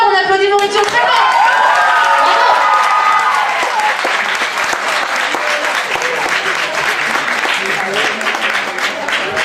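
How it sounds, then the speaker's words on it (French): An audience applauding the author Maurizio, loud dense clapping from a crowd that follows a brief sung or voiced tone at the start and continues steadily throughout. "on applaudit Maurizio très fort"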